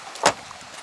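A car door thumps shut once at close range during a rainy departure, a single short slam with quiet background before and after.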